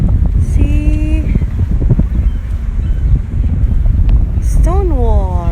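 Wind blows steadily across an open seaside spot by the Pacific Ocean near a stone wall and tower, a constant rushing roar on the microphone under a person's talking.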